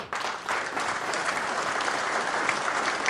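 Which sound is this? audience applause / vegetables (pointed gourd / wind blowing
audience applause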